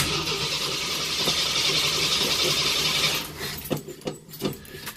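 A car's starter motor cranks with a sustained whirring grind for about three seconds, then the engine catches and runs with uneven, sputtering bursts, close and loud.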